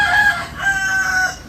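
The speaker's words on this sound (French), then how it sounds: "Mais le coq fait quoi en ville?" A rooster crowing in a town, one long drawn-out call close by with a second rising phrase, loud and alone.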